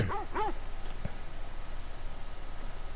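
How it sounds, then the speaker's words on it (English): A small dog in The Last of Us Part II gives two quick yips or whimpers at the start, then a fainter short sound, over quiet game ambience with no talking. "It's a little dog. I'm gonna pet him."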